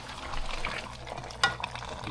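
Jamaican oxtail stirred in a pot, giving a steady sizzling, bubbling texture with a sharp spoon-on-pot clink partway through, fairly close and continuous.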